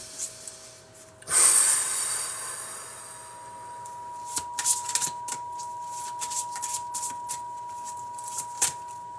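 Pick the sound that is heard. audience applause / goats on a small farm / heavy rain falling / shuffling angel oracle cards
shuffling angel oracle cards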